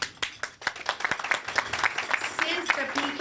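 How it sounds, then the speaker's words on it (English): A man in a convention audience claps, sharp close hand claps that start spaced and quicken into a fast patter, heard under ongoing talk. "I like this gentleman, he's clapping right around."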